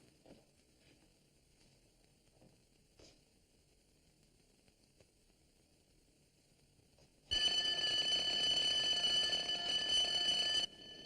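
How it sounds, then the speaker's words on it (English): A bank burglar alarm at the New Mercantile State Bank rings during a scheduled test, a loud, sustained electric bell clangour that starts abruptly after a quiet stretch and holds steady for about three seconds before cutting off. "they're going to test the alarm at the New Mercantile State Bank, so don't come out running when it goes off"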